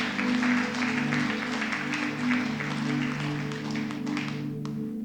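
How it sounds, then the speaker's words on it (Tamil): Congregation clapping hands during a Sunday church service, a dense, steady patter of many hands lasting throughout, with a sustained tonal drone of music underneath. "கைத்தட்டி அவரை மகிமைப்படுத்துங்க பார்க்கலாம்."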